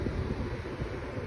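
Holmes window fan running on high, a steady close rush of airflow with a broad, whooshing noise and no talking.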